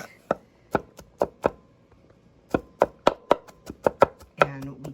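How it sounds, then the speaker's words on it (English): A kitchen knife minces mushroom stems on a cutting board in sharp, distinct chops, first spaced out, then after a brief pause in a quicker uneven run, close and crisp, with a faint voice near the end. "Anile's just chopping up all those beautiful mushroom stems into, actually we're gonna mince them"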